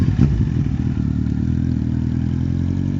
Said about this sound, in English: So there he goes. So there you go. Rudgie's got himself a Z1000